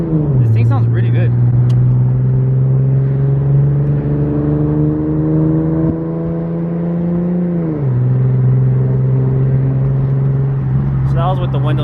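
Infiniti Q50 fitted with an ISR single exit exhaust revs from inside the cabin with windows down, a loud steady drone that rises, holds, dips and climbs again, with brief sounds of people in the car near the end.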